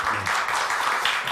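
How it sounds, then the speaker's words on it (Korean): Applause from an audience opens a Korean civil-society debate forum marking the June Uprising, a brief, steady, dense wash of clapping that fills the room without pause. "여러분들 심찬 박수로 시작하도록 하겠습니다"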